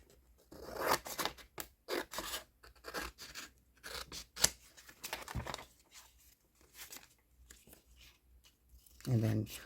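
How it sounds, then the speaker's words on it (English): Scissors trim the edges off paper cardboard for a small handmade journal. The snips and crinkling paper come as quiet, irregular, close bursts with gaps between them. "I'm just going to cut the edges off"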